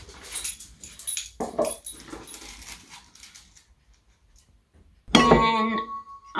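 A pet dog in a home kitchen at breakfast whimpers and yips in short, uneven bursts, with a sharper, louder whining cry near the end, nearby and without talking.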